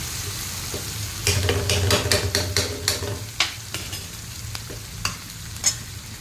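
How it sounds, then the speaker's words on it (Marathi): Cooked whole masoor lentils are stirred into hot oil with beetroot in a pan, a soft sizzle under repeated sharp scrapes and knocks of a spoon against the pan, close and irregular. "आता आपण ह्याच्यामध्ये अख्खा मसूर जो शिजवलेला आहे तो घालून घेऊया"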